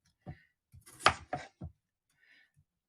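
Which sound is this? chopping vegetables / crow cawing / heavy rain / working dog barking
chopping vegetables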